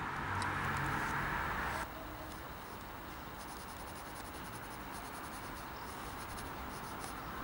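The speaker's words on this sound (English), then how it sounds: "I will start making a simple pencil drawing first, just basic lines." A pencil scratches steadily across paper, a soft continuous rasp of strokes, louder at first and then lighter and fainter.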